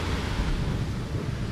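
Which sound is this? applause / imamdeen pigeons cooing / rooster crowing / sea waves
sea waves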